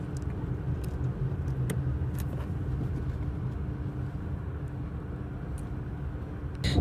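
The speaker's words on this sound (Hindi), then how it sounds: "तो अभी मैंने ना बैरियर टाउन को गाड़ी टर्न कर ली है।" A car drives along a road toward a town after rain, giving a steady, loud engine and tyre rumble throughout with occasional brief knocks, and no voices over it.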